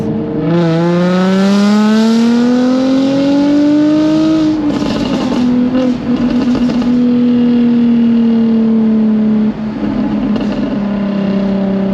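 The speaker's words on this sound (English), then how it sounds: "The exhaust is a great noise, but this one is a bit too loud for my liking" A loud Jaguar F-Type convertible (X152) roars and climbs in pitch as it accelerates onto a bypass, then holds a steady, booming exhaust drone with brief crackles.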